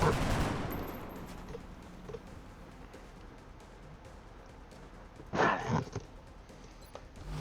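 Video game gunfire from a military shooter: a burst of shots at the start, sparse faint pops through the middle, then a sharp, louder volley near the end.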